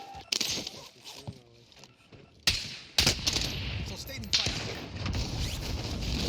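Sniper fire in the shooter Warzone: a few sharp, loud cracks spaced seconds apart, with brief talk early on and a steady game background between the shots.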